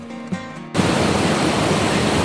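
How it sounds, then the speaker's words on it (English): A small stream and little waterfall at a campsite on an early June morning: a loud, steady broadband rush of flowing water starts abruptly after a brief quieter moment and continues evenly. "Look at that little waterfall behind me."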